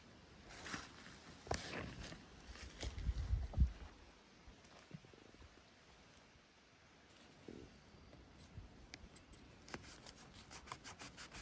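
Red reishi (lingzhi) mushroom, wet from recent rain, cut with scissors: a few soft, quiet snips and rubbing sounds, close and faint against a low outdoor background.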